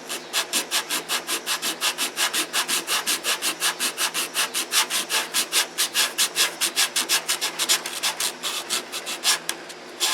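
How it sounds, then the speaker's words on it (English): Steady back-and-forth rasp of 80-grit sandpaper, glued to a fingertip, rubbing down dried filler by hand, about forty even strokes close up with no talking. "I just glue 80 grit sandpaper to my finger, and we start sanding."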